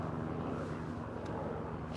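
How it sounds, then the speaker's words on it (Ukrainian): A helicopter passes overhead in a residential area in the USA, a steady broadband rotor and engine rumble that fills the background at moderate level without voices. "ще вертольот летить"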